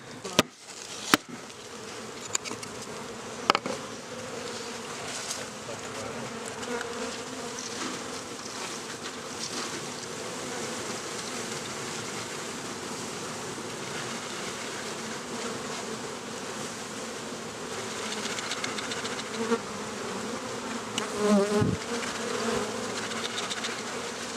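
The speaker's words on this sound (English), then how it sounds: "now we're gonna put the bees inside the hive" Dense, steady buzzing of many honey bees close by as they are installed into a hive, a continuous droning hum with a few soft knocks early on and no voices.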